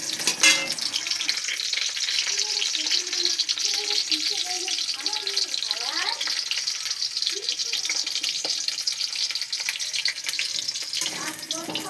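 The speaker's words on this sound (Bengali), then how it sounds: "আলুটা ভাজা হচ্ছে।" Potatoes fry in a pan with a soft, steady sizzle and occasional stirring scrapes, moderately close, while faint background voices come and go.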